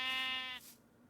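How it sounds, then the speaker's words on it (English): Single sheep bleat in the Minecraft mod TerraFirmaCraft: one clear, nasal, wavering cry lasting about half a second, close and alone, followed by quiet. "where are the other sheep? They should be just around here."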